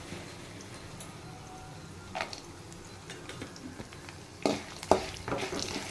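Urad dal, chana dal and cashews fry in oil over low heat for homemade pudina rice, giving a soft, steady sizzle with a few sharper clinks and scrapes toward the end and no talking.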